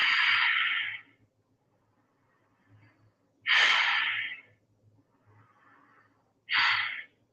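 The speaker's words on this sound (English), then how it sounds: "take 3 deep breaths now" Three deep breaths during a morning yoga-style routine, each a long, loud airy exhale lasting about a second, evenly spaced with quiet pauses between them.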